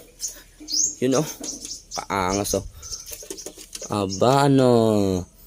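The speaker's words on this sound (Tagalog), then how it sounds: "ito na yung ating kalapati" Pigeons cooing near their house, soft throaty coos and a few chirps, close by, with someone talking over and between them.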